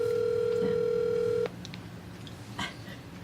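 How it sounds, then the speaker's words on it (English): A steady single-tone telephone ring on an outgoing call holds loud for about a second and a half, then cuts off, leaving faint line hiss and a soft click. "Let's see if he'll answer the phone. There we go. It's ringing."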